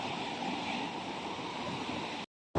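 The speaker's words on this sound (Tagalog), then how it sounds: "ayan na yung alon, oh" Sea waves wash up on a beach around someone wading, a steady close hiss of surf and foam that cuts off abruptly near the end.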